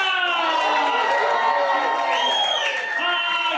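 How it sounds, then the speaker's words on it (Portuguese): Studio audience at a night talk show clapping and cheering together, a dense continuous wash of applause with shouts and whoops over it, close and loud throughout. "Vamos de palmas"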